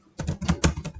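Quick keystrokes on a computer keyboard, about seven soft, close clicks in a steady burst lasting under a second.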